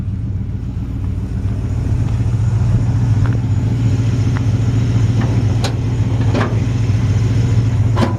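A 1953 Ford F100 short-bed truck idles with a steady low, lumpy exhaust burble through straight pipes or turn-downs, close up, with a few faint clicks over it and no talking.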